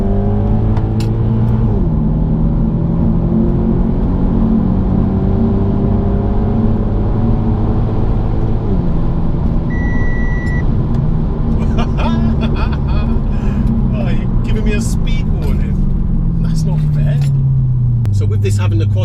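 An Audi S5 with a 4.2 V8 and Quattro all-wheel drive accelerates hard to overtake, the engine note climbing through the gears with rising and dropping pitch as it shifts, loud and steady throughout.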